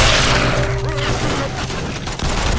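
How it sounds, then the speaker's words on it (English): A pipe bomb going off in the game City 17: Aftermath, a loud, dense burst of blasts and rapid gunfire heard together in one roaring wash, close and heavy, with a voice briefly audible under it. "Pipe bomb!"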